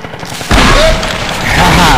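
Laser gunfire aimed at the player in a video game, a sudden loud blast that settles into a dense, sustained roar of shooting with whining tones over it.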